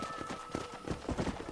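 Steady clip-clop of horse hooves at a quick, rhythmic gallop in the video game Red Dead Redemption, moderately loud, with a faint tonal hum in the background and no talking.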